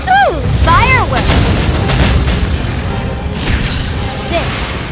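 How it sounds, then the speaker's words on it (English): Booming fireworks bursts in the Dragon Nest game, a dense run of loud, rumbling explosions with whistling rising and falling tones at the start, layered over game effects and a shouting voice. "fireworks!"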